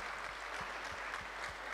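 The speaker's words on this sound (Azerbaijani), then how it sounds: "Gürültülü alqışlar gəlsin bəyimizə" Loud sustained applause for the groom at a wedding gathering, a dense, even wash of many hands clapping with faint low thumps underneath.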